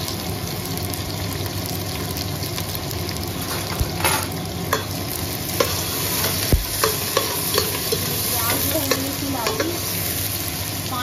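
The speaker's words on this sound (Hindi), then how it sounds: "आधी प्याज को मैं कच्चा पक्का ब्राउन करूँगी" Onions frying in a pan for a mutton and capsicum dish, a continuous loud sizzle with repeated clinks and scrapes of a spoon stirring.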